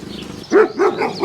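A few dogs bark in a quiet Argentine village street, with about three short, fairly close barks in quick succession over a soft outdoor background.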